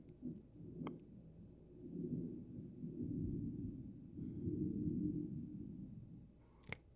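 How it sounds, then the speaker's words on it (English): Low, rolling rumble of thunder that swells and fades over several seconds, sounding distant, with no voices. "The thunder sounds so nice."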